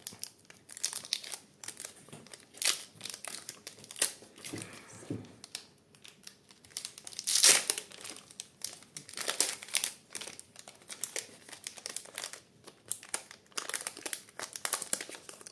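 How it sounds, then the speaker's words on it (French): Foil wrappers of Pokémon card booster packs crinkle and tear close to the microphone in a steady stream of crackly rustling, with louder crunches as the packs are ripped open and handled. "Et on va tout de suite ouvrir 2 boosters."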